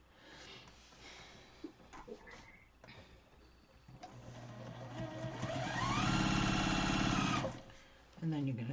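Sewing machine stitching pieces of a Farmer's Wife quilt block, a short faint run early on, then a longer steady whirring burst in the later half, with quiet handling noises and brief pauses between.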